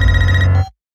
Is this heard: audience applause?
no